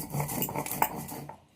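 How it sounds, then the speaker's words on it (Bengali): Spices are ground by hand on a stone sil-nora, a close run of scraping, knocking strokes that tapers off toward the end, heard alone without speech. "যেহেতু অল্প মশলা, আমি শিলনোড়াতেই বেটে নিচ্ছি।"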